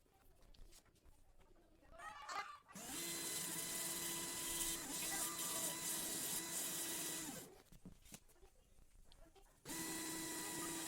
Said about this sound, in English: I shall smoothen the circle with the help of drill and a sandpaper of number 80